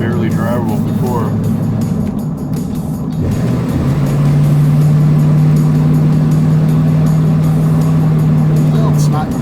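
A 1972 Chevrolet Corvette engine running loudly nearby, a rough idle that settles into a steady droning hum while people talk over it.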